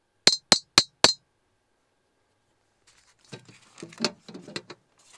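A glass cover of a Züblin Blanco E27 ceiling lamp with a plastic base gives four quick, sharp clinks close up, followed by a pause and then softer, irregular handling clatter and rustling.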